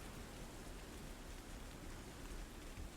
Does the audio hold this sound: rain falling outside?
yes